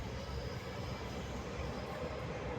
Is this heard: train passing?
yes